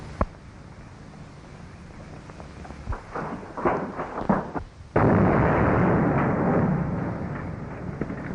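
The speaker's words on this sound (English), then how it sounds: "train tunnels blowed up" A heavy tunnel blast booms suddenly after a few scattered thuds and pops, followed by a loud sustained roar and rumble that slowly fades, heard from a distance.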